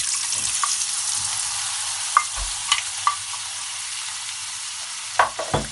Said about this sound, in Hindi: दही वाले आलू बनाने के लिए हम सबसे पहले ऑयल में आलू फ्राई करेंगे।